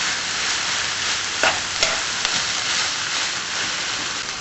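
Ginger-marinated beef sautéed with noodles and seaweed is stirred in a hot pan, making a constant close sizzle with a few sharper scraping clicks of the utensil and no speech.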